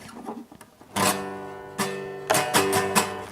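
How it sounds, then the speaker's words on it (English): Acoustic guitar with bad action strummed in a few separate bursts, each chord ringing out and fading, with quiet gaps between strums. "We've got really bad action on this thing."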